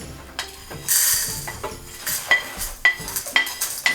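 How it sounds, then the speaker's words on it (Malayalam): Pepper, fennel, cardamom, cinnamon, clove and star anise dry roasting in a pan, with close metallic clinks and scrapes of a spoon stirring and rattling spices in irregular bursts. "കുരുമുളക്, പെരിഞ്ജീരകം, ഏലക്ക, പട്ട, ഗ്രാമ്പൂ, തക്കോലം, ഇതെല്ലാം കൂടി ഡ്രൈ റോസ്റ്റ് ചെയ്തെടുക്കുവാണ് ഞാൻ."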